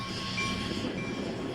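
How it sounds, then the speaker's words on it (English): Freight train with two locomotives leading eight empty liquefied petroleum gas tank cars, creeping at very slow speed through Peoria Heights; a steady rumble of rolling cars with faint metallic squeals, heard close and alone. "CIRY 1202 and CIRY 1207 are shown leading 8 empty liquefied petroleum gas tank cars at glacial speed through Peoria Heights on that warm spring morning"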